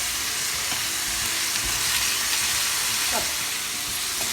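Peppery tofu sauce stirred in a hot pan, a dense continuous sizzle with scraping stirring strokes, loud and close throughout.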